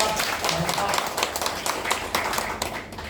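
Audience clapping at a Thai government meeting on a voluntary greenhouse gas reduction project, a steady wash of many hands that runs throughout, with voices mixed in.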